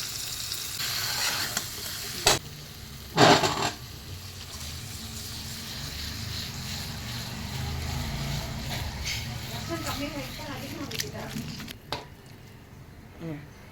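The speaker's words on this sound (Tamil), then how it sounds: "சூப்பராக எக் மசாலா ரெடியாகிட்டுருக்கு" Egg masala for a Sunday non-veg meal frying in a pan, a continuous close sizzle with repeated stirring and scraping strokes and a few sharp clanks, while someone talks over it.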